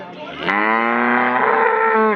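Cattle at a livestock market in Anthiyur give one long, loud, close moo that swells after a brief lower start and holds steady for about two seconds, with no voices over it.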